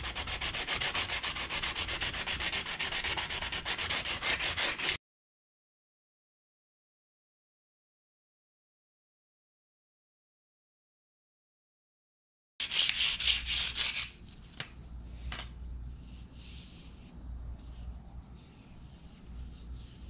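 A wooden wand rubbed by hand with fine 220 grit sandpaper, a steady scratchy back-and-forth rasp that stops for a long silent gap, then resumes with lighter, softer strokes.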